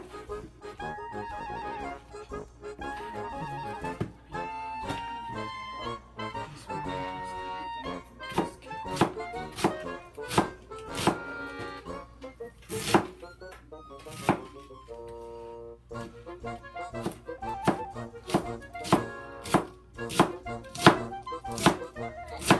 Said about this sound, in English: We cut the cabbage. We cut cabbage through here. We cut it very, very thin.